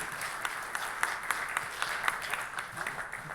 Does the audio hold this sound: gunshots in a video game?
no